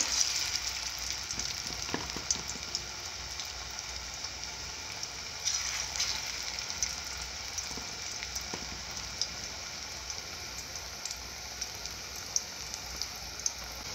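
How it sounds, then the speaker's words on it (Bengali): Cabbage pakoras deep-frying in hot oil make a continuous crackling sizzle like steady rain, close and even, with occasional soft clicks and pops and no voices. "পকোড়াগুলো ভালো করে মচমচে করে ভেজে নিবে।"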